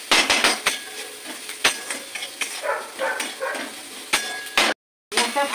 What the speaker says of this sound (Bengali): আমি পেঁয়াজটা একটু ভাজা ভাজা করে দিচ্ছি।